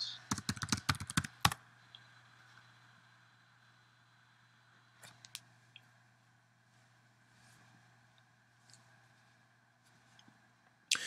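A username and password typed on a computer keyboard while setting up a Raspberry Pi: a rapid burst of close key clacks at the start, then scattered single keystrokes and a final tap over a faint steady hum.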